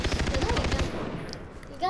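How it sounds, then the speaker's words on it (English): Machine gun fire in the video game Far Cry 3 multiplayer, a rapid, loud burst of evenly spaced shots that stops after about a second, leaving faint game ambience. "That's a magnum. It's a machine gun."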